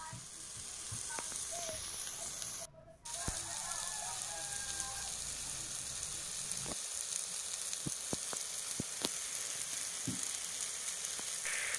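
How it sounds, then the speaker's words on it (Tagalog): Stir-fry sizzling steadily in a pan with oyster sauce, a continuous frying hiss broken by sharp scraping clicks as the food is stirred, close and fairly loud throughout. "Haluin lang natin mga boss. Dapat yan mahalo natin maigi."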